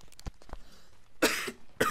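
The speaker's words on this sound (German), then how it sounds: "Entschuldigung, ich muss kurz husten hier." A person coughs several times in a short burst, loud and close, with a couple of sharper coughs at the end and no talk over it.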